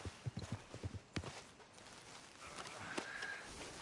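Horse hooves in Red Dead Redemption 2 clop several times in a quick uneven run at the start, then fade out under a low outdoor ambience.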